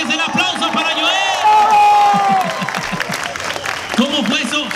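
A festival audience applauds and cheers for a performer named Joel at a live show, broadband clapping mixed with crowd shouts and whoops, with an amplified voice talking over it throughout.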